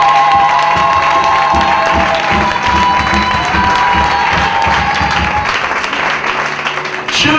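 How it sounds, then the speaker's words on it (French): A church congregation in Bangui bursts into loud, sustained applause and cheering to acclaim the Lord, with clapping, shouts and high voices mixing into a dense crowd roar that continues steadily throughout. "Ensemble, on acclame le Seigneur."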